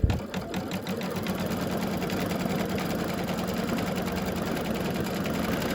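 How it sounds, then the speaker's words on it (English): An embroidery machine stitching a coaster with puffy foam, a steady fast mechanical chatter of the needle running continuously at even volume, close and alone without voices. "Okay, so now we're going to stitch down this piece."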